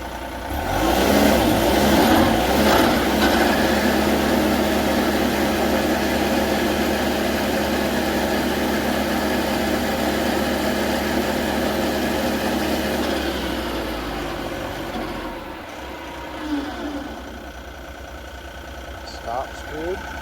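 An SC48TX stump grinder engine idles loudly and steadily close by for about fifteen seconds, then shuts down, leaving quieter background noise with a few small knocks.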